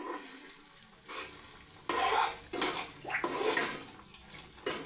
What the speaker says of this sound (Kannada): ಇವಾಗ ಇದು ಕುದಿಯಾಗತೈತಿ, ನೋಡೋಣ ಯಾವ ಥರ ಕುದತ್ತಂತಂದು